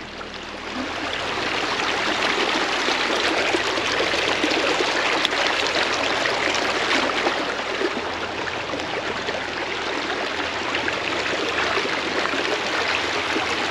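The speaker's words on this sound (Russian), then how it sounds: "По горной реке" Mountain river in spring, the Uzundzha in Crimea, rushing steadily over rocks as a dense, loud, continuous wash of water that stays close and even throughout, with no voices.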